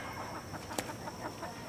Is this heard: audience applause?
no